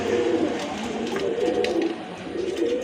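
Colourful pigeons kept for sale give low, rolling coos in repeated pulses, close by and fairly loud, with no talk over them.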